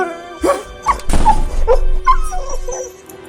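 A puppy whimpers and yips in a Hindi drama podcast sound effect, giving several short, high, plaintive cries in a row, close and clear over a faint steady background tone.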